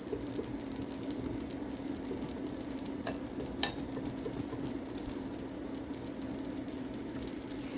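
Onions sizzling steadily in homemade vegan butter made from coconut milk, coconut oil and sunflower oil, a continuous close frying crackle with occasional louder pops and a low hum beneath, no talking.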